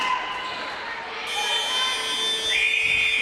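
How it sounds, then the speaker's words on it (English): A loud electronic buzzer sounds near the end of a quarter at an independent schools league netball finals match, a sustained tone that enters late over crowd noise and commentary. "Although the buzzer will beat them to it."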